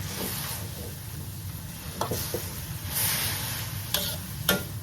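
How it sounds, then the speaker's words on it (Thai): A thick, sweet cane-sugar filling is stir-fried in a pan over lowered heat, giving a steady soft sizzle with occasional sharp clicks and scrapes from the stirring utensil. "คนไปเรื่อยๆ ผัดไปเรื่อยๆค่ะ"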